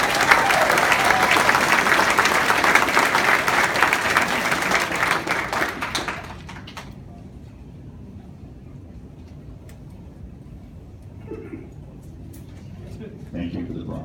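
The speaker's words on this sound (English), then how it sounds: "Round of applause for Melissa" Audience applause at a school band parents' concert fills the first six seconds loudly, then breaks off into quiet room murmur with scattered faint claps and voices.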